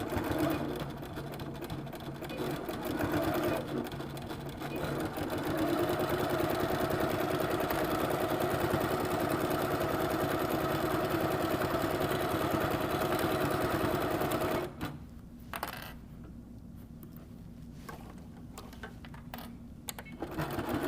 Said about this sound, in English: And then we'll sew down that side. I'm going to do a little back stitching here